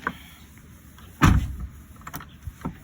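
Door on a tractor head truck being worked open and shut, a stiff door that resists opening and closing: a loud heavy clunk in the middle, followed by smaller metallic knocks and rattles, close up with no voices.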